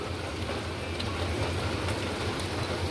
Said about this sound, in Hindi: बारिश इतनी तेज़ हो रही है ना, आवाज़ से अंदाज़ा हो रहा होगा आपको